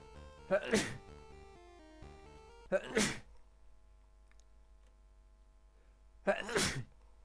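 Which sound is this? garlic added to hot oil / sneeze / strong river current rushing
sneeze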